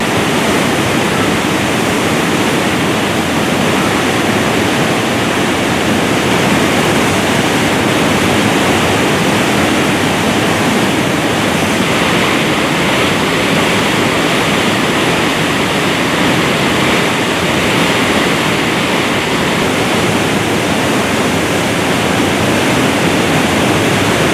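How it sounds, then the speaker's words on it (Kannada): Heavy floodwater roars through 22 dam gates on the swollen Tunga river, a steady, loud, continuous rushing wash with no pauses and no voices. "ಎಲ್ಲ 22 ಗೇಟ್ಗಳ ಮೂಲಕ ನೀರನ್ನು ಹೊರಕ್ಕೆ ಬಿಡಲಾಗುತ್ತಿದೆ"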